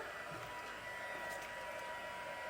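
An embossing heat tool blows hot air in a steady, quiet, continuous whirring hiss that lasts the whole moment without any speech.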